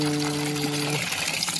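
Water is poured over a rugged Ulefone Armor 15 phone sitting in a box, a brief splashing wash that follows a steady tone and stays close and fairly loud.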